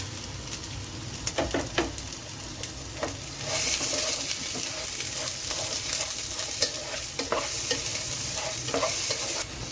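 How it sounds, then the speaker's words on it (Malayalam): Chopped onions hit hot oil already fried with bay leaf, cinnamon and cloves for a Kerala-style chicken pulao, giving a steady loud sizzle with scraping spoon stirs throughout and no talking. "ഇനി നമ്മൾ സവോളയാണ് ചേർത്ത് കൊടുക്കുന്നത്. ഒരു 2 സവോളയാണ് ഞാൻ എടുത്തിരിക്കുന്നത്."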